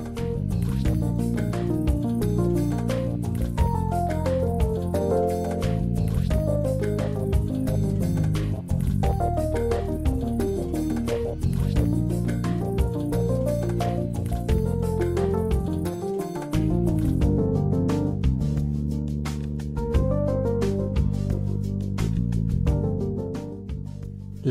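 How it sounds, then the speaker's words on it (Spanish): Tiny water drops fall slowly inside a limestone cave, the Gruta del Águila at Arenas de San Pedro in Ávila, giving a steady run of small plinks and drips in a quiet space with a faint musical background. "solo es roto por minúsculas gotas de agua que caen lentamente"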